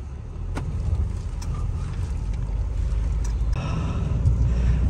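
A Mahindra XUV700 SUV pulls away on the road to start a trip, with a steady low engine and road rumble inside the cabin that builds slightly, a few faint clicks, and no talk.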